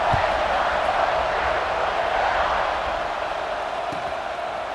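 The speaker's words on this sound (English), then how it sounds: "You think this crowd's going to get loud when their defense comes on the field?" A stadium crowd in the video game EA Sports College Football 26 gives off a steady, broad roar that eases slightly over time, with faint thumps beneath it.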